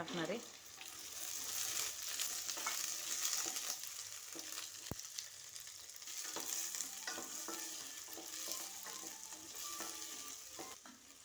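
Green field bean seeds frying in hot oil with a coriander paste, a constant soft sizzle with faint stirring and one sharp click partway through.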